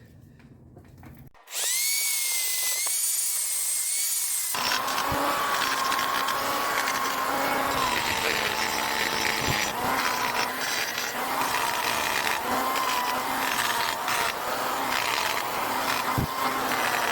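A loud, high-pitched whine from a power grinder porting a cylinder head starts after a short pause and keeps running steadily, with its pitch wavering as it works against the metal.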